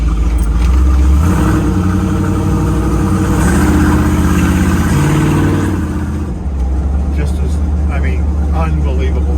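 A 1984 Jeep Renegade runs on a wet street with a loud, close engine drone that rises and falls as it accelerates, and the tone shifts near the end.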